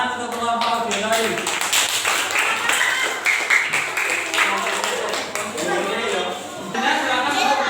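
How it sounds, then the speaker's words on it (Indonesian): Applause for a group of students in a classroom differentiated-learning session, steady clapping from several people throughout, with voices chattering over it. "Tepuk tangan untuk kelompok auditory."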